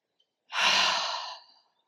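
A single long exhale through the mouth during a yoga flow in a jungle setting, a soft, breathy sigh that swells quickly, then fades out over about a second, alone in near silence.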